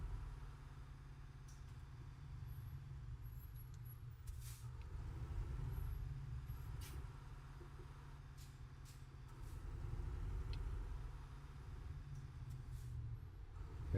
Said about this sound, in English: Let's see what the standard engine sounds like.